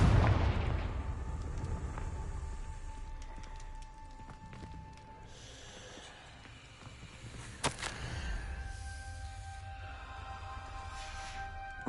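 A Confringo blasting spell in Hogwarts Legacy going off as a fiery explosion, a heavy boom at the start fading out, followed by another sharp crack and rumbling burst partway through, set against a steady game soundscape.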